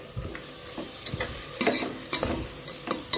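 Small chopped tomatoes sauté in a pan with a soft, quiet sizzle, broken by scraping stir strokes and occasional louder clatters of a spoon against the pan, with no talk.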